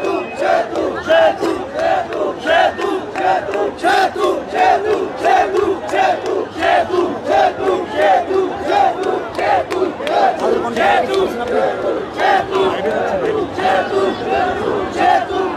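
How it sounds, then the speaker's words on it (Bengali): Bhola residents occupying the Shahbag intersection chant slogans demanding a Bhola–Barishal bridge, a loud massed crowd shouting in a steady, rhythmic call pattern that carries on without pause. "সেতু সেতু স্লোগান সহ বিভিন্ন স্লোগান দিচ্ছেন ভোলাবাসী শাহবাগ মোড় দখল করে"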